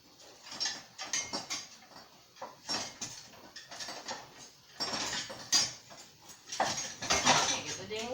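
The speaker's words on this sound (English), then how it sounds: "I'm going to take a whisk to it." A whisk beating homemade salsa in a bowl in a home kitchen while canning, quick bursts of clinking metal against the bowl in irregular runs, near and moderately quiet.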